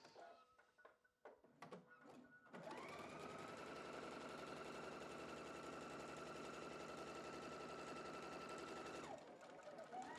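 A domestic sewing machine runs steadily while stitching a quilt section, a loud continuous motor whir with rapid needle chatter lasting about six seconds, preceded by a few brief handling clicks and thumps.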